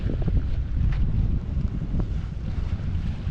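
Sea waves in Lamon Bay, heard from a small boat on rough water: a steady low wash and rumble with wind buffeting the microphone, continuous and fairly loud, with no talk.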